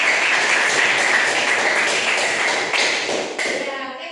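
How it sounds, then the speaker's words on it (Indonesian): Students applaud in a classroom, a dense burst of close clapping from a group that stays steady and then tapers off near the end. "Oke, kasih tepuk tangan dulu."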